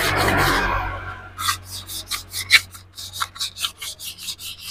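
A Supra X 125 motorcycle piston being polished by hand before new rings go on, heard as close, rhythmic rasping rubs, one long stroke followed by a quick run of short back-and-forth strokes.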